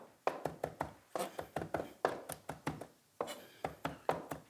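Fresh organic Danish dill is chopped with a knife on a cutting board in a steady run of quick, crisp taps, close and fairly quiet, with brief pauses between bursts.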